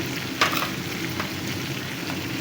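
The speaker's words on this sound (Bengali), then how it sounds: "এখন আমি ভালো করে এগুলো কষিয়ে নেব মশলাটা কষিয়ে নেব ভালো করে" Ginger-garlic paste, cumin, coriander, turmeric and chili powder fry in hot oil for a bitter gourd curry, a steady close sizzle with a couple of brief stirring scrapes and no voices.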